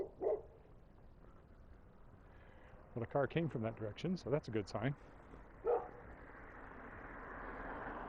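Dogs bark in a residential street during a walk in Regina, a burst of several sharp barks in quick succession at mid distance, with someone talking briefly before and after and light wind noise.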